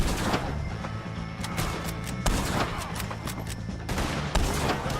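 Gunfire in the Red Dead Redemption 2 video game during a shootout with O'Driscoll gang members: rapid, dense bursts of shots and impacts, with sharper blasts standing out, over a constant loud background of game action.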